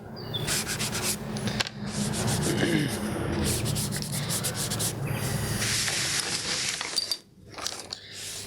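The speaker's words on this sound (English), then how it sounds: "It's me rubbing and using my fingers and my hands." Hands and fingers rub paint across a canvas surface, making a continuous dry scratchy friction that runs in long strokes, close to the microphone, then drops off briefly near the end.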